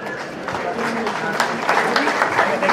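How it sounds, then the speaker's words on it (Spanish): Audience clapping at a community event in Apaxtla de Castrejón, a steady mid-level patter of many hands building slightly, with voices mixed in underneath. "vamos a darle un fuerte aplauso."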